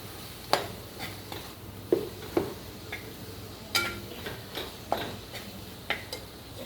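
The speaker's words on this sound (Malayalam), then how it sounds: "ഒന്നിളക്കി കൊടുക്കാം." A spoon stirs coriander powder into palak paneer masala frying in a pan, giving irregular taps and scrapes against the metal over a low, steady sizzle, with no voices.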